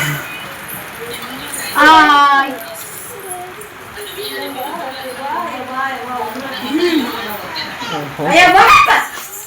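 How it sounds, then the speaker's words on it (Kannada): A dog barks, yips and whimpers at a village temple fair in Gubbi, with sharp bursts near the start and again near the end while people talk in the background. "ನಾಯಿ"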